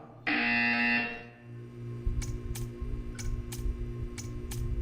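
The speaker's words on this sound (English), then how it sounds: "You will hear a buzzer." A loud, steady electronic buzzer in the video game Portal 2 sounds for about a second, then gives way to a low hum and a series of sharp, evenly spaced clicks.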